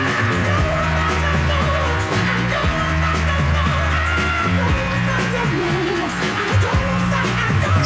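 A song plays as full band music with a steady low bass line and dense mid and upper texture, held at an even loudness throughout with no talk over it.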